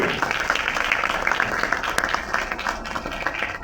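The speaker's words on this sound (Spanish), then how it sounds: "Más fuerte ese aplauso para don Rubén Darío Aponte" An audience at a Dominican broadcasters' association ceremony applauds steadily, a dense wash of clapping at moderate level throughout.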